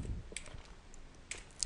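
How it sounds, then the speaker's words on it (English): Quiet typing on a computer keyboard, a few soft scattered key clicks in a short burst with pauses between, close by and alone. "I'm going to go ahead and type it in here."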